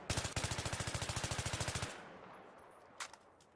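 Burst-mode automatic gunfire in the video game Battlefield 3, a rapid, evenly spaced string of about twenty loud shots that stops sharply, followed by quieter game ambience and a couple of faint later pops.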